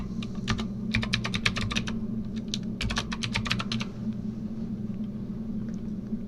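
A project name typed on a computer keyboard: two quick bursts of close key clicks over a steady low room hum, then the clicking stops while the hum continues.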